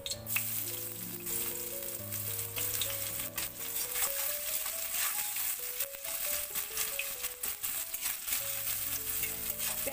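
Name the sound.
chopped onions frying in a pan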